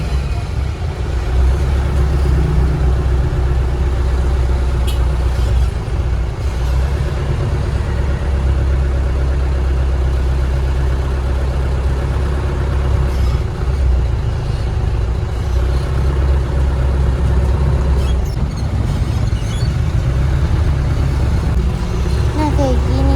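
A city bus engine idles and rumbles steadily as the bus pulls away from Joyoboyo terminal in Surabaya, a constant low drone close by with faint cabin noise and occasional voices underneath.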